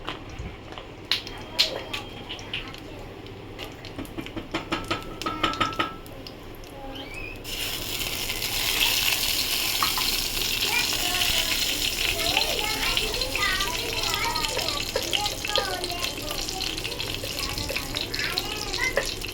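Oil going into boiled pea dal in a pan, with a rush of sizzling and bubbling that takes over midway after earlier clatter of utensils and a running tap, staying loud and steady to the end.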